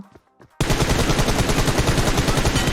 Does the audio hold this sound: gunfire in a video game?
yes